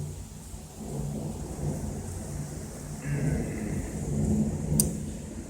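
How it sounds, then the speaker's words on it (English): Late-night thunderstorm with steady rain and a low, rolling rumble of thunder swelling toward the end, a brief bright crack near the close, heard at moderate distance with no talking. "Late night thunderstorm, little grand finale to my day."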